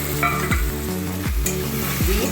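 Marinated prawns going into hot oil in a pan, giving a close, fairly loud wet sizzle with a few dull spoon knocks and stirring strokes against the metal.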